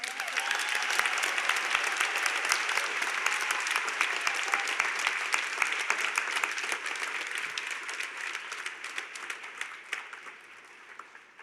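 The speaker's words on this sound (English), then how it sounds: "asking them to give themselves a hand of applause because we actually made it" Graduates at a Concordia University convocation applaud themselves in a long, dense burst of clapping from a large crowd, steady and full throughout before thinning slightly toward the end.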